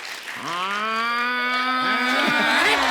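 A voice imitates a buffalo's moo with a long, drawn-out lowing call that rises and holds steady, loud and close, ending in a wavering tail.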